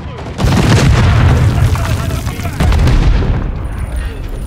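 Bomb drone detonation in Call of Duty: Modern Warfare III, with heavy booming blasts and gunfire-like bursts. A loud boom lands near the start and a second one about two seconds later, over continuous rumble with a voice faintly under the action.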